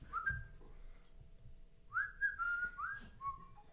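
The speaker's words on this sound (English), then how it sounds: "Oh, you're gonna do the whistle thing." Someone whistles a short tune in two phrases, a brief opening note, a pause, then a run of sliding notes, fairly quiet and close, with faint room noise and no talking.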